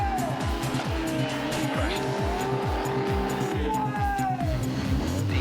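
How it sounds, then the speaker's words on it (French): A car doing a tire-burning burnout at a tuning event on an airstrip: the engine roars loudly and continuously with rapid repeated rev pulses, while high tire squeal rises over it throughout. "l'on voit brûler puis exploser les pneus"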